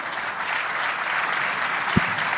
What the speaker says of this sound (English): I need some applause